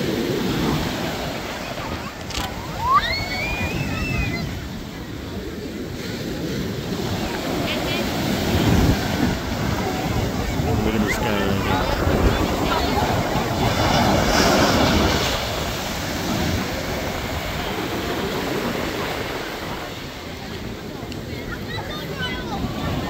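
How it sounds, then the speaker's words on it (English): Surf rolls in at Rehoboth Beach, Delaware on a hot summer day, a continuous wash of breaking ocean waves with heavy wind buffeting the microphone and distant voices of beachgoers mixed in. "This is Rehoboth Beach here in Delaware."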